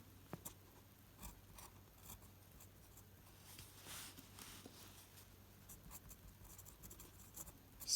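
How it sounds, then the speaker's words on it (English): A pen writing the Chinese character xiang (向) in standard script: faint, scratchy strokes and taps spread over several seconds, quiet and close, with no talking. "I will write it in standard script"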